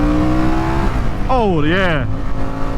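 A Harley-Davidson Sportster S motorcycle powers through a corner, its engine note dipping and then climbing in a sharp rev before easing back, loud and close over wind, while a rider speaks briefly.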